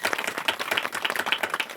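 An audience at a Marathi kirtan held in Mandegaon as a first-year memorial rite claps in a steady, dense burst of hand claps, close and lively, with no voices over it.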